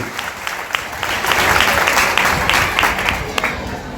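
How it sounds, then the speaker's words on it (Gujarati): A crowd at a live event breaks into loud, sustained applause to welcome a guest on the phone, dense clapping swelling and holding for several seconds. "એમને જોરદાર તાળીઓથી વધાવી લઈએ બધા મિત્રોને"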